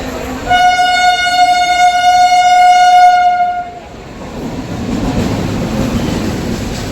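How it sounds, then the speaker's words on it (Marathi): A train horn blares loudly for about three seconds as a Konkan line train arrives at a station, then the rumble and clatter of rail cars rolling in, with crowd noise underneath. "ट्रेन आली है आता"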